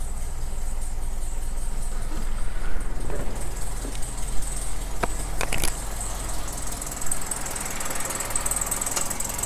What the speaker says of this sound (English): I'll start it up so you can hear the engine.